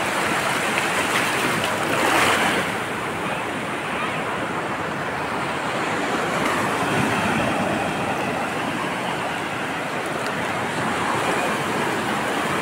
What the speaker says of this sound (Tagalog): Ako po, laki ng alon, no?